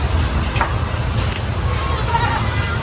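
A goat bleats outdoors in a rural work setting, with a couple of short nasal calls over a steady background rumble.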